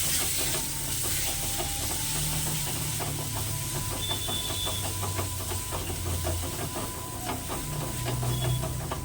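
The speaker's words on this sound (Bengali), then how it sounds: "ততক্ষণ পর্যন্ত মশলাটা ভাজবো" Masala spices for chicken biryani frying in oil over low-to-medium flame, a continuous close hiss and sizzle with faint rhythmic scraping, steady throughout with no voices.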